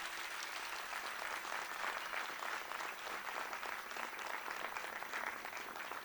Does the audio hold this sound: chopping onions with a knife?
no